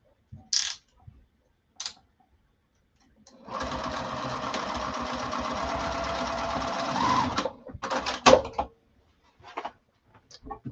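A sewing machine stitches a piece of fabric in one steady run of about four seconds, with rapid mechanical whirring and ticking, followed by a few short bursts and clicks as it stops and is adjusted.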